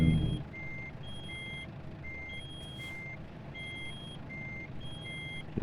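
A truck's reversing alarm in a trucking simulator beeps in a regular repeating pattern over a low idling engine rumble, fairly clear and steady with no voices.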